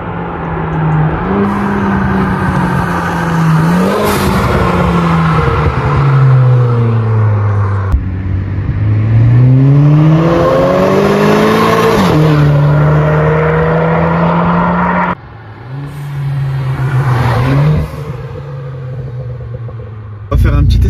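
A yellow Renault Clio 4 RS Trophy engine idles loudly up close, then revs repeatedly, its deep drone climbing and falling in pitch with a few sharp throttle blips over roughly twenty seconds.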